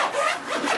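Zippers drawn open along the big outer pocket of a Midway USA Pro tactical rifle case, a short, close, raspy pull lasting under a second with no other sound.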